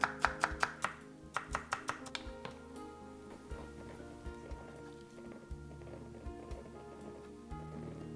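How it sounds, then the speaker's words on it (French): A knife chops green onion finely on a board, with a quick burst of close, rhythmic taps followed by slower, scattered cuts. "Je coupe cette partie un petit peu plus fin"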